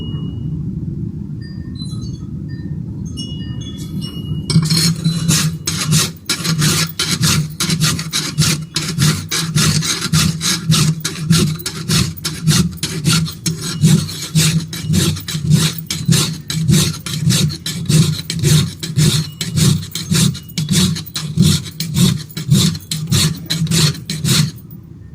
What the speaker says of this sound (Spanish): va a ser necesario primero limar para lograr tumbar esta rebaba